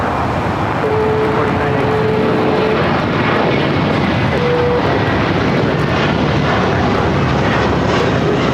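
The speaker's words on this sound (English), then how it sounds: "This is American Airlines 2110 taking off to Boston on the A321." An American Airlines Airbus A321 takes off from LAX with a loud, continuous jet roar that holds steady throughout and swells broadly across the whole range.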